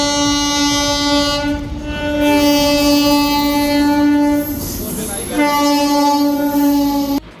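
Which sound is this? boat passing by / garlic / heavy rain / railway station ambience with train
railway station ambience with train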